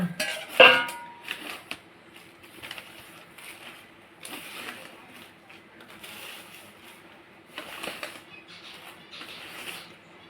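Chana dal and other ingredients are mixed into rice flour in a vessel, making quiet, intermittent clinks, scrapes and rustles against the pot, with short louder knocks spaced through the mixing.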